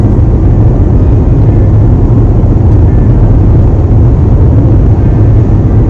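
Bumper-to-bumper road traffic on the way to Brisbane makes a steady, loud low rumble of engines and tyres that holds level throughout, heard up close without any voices.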